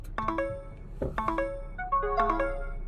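The dashboard of a SsangYong Korando beeps after the ignition is switched on, a series of clear electronic chime tones in quick clusters with a low engine hum underneath.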